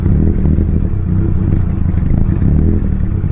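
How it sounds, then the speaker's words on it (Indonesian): A Mitsubishi Lancer CK4 engine idles with a faulty airflow sensor, its RPM swinging unsteadily. A loud, close, continuous low rumble with a dense, uneven chugging texture runs throughout and no one speaks. "setelah mesin hidup, RPM-nya ini mengayun hebat."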